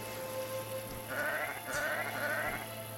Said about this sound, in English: there should be some sheep here. There's a sheep there.